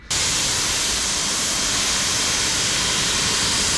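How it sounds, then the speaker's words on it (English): Pressure washer blasting water onto a Chevy Sonic outdoors, starting abruptly and then holding a loud, steady, broadband hiss throughout, with no voices. "I'm gonna pressure wash the rest."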